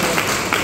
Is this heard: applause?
yes